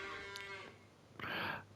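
Cows moo in the Farming Simulator 25 video game, one drawn-out low moo followed by a louder, brighter second call, clear and close with no talking.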